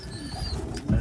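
Young racing pigeons coo softly in a loft just after weaning, low throaty burbling calls overlapping close by, with one fuller coo swelling at the end.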